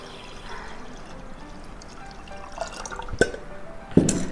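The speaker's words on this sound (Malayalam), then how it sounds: "കിട്ടിയ ജ്യൂസ് ഇതിലേക്ക് ഒഴിക്കുകയാണ്." Extracted juice is poured from a container into a pot of water for pani puri, a soft trickle building into a splash and a couple of sharp drips near the end, close and quiet.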